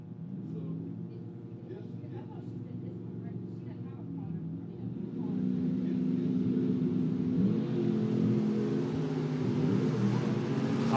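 A full-size Chevy and an S10 sit on a drag strip starting line, engines rumbling low and even, then revving harder as the noise swells and brightens about halfway through.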